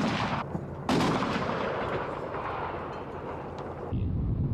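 Gunfire in Mogadishu: a couple of heavy, booming shots ring out at a distance, each trailing off into a long rumbling echo.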